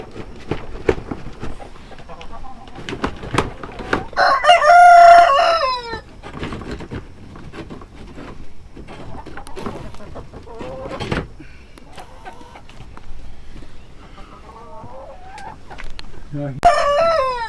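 Backyard chickens cluck and squawk around a roost area while a rooster lets out a loud crow, with a second crow near the end; someone talks at length throughout.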